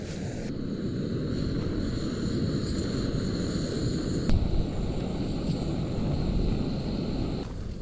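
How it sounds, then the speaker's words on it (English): A camping stove heats water in a lidded pot on a windy mountain summit at Swirl How in the Lake District, giving a continuous close roar that runs steadily without speech. "Right, boil some water."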